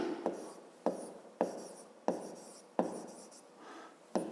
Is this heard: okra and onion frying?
no